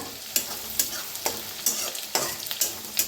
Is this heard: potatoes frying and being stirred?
yes